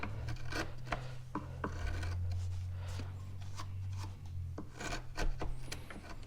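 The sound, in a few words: half-inch chisel clearing waste wood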